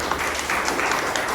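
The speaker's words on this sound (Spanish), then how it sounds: "Denle un aplauso al Señor" Applause from a church congregation giving praise to the Lord, a steady dense wash of many hands clapping at moderate loudness without a break.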